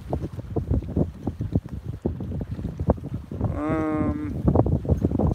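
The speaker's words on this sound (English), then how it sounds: "Probably getting some wind noise now." Strong wind sweeps across a bay full of boats, buffeting the microphone in rough, gusting rumbles, with a brief wavering tonal whine partway through.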